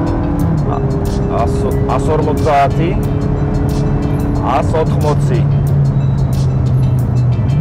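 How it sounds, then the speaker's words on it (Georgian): A Ferrari F430 accelerates hard along a straight, its engine note rising loud and continuous from inside the car, while someone talks over it. "მოდი ახლა ნახოთ სწორზე რამდენს განავითარებს ეს ავტომობილი."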